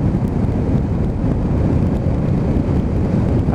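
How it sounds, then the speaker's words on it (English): Strong gale-force wind roars in steady broadband buffeting across a microphone while riding a Yamaha Vmax motorcycle down a dual carriageway at a steady 65-70, the gusts masking any engine note throughout. "it is absolutely blowing a gale today"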